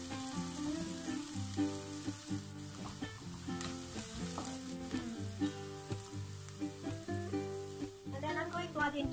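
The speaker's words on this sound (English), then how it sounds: "Fry this until fragrant" Garlic frying in a pan, a continuous bright sizzle underneath prominent background music, with no talking.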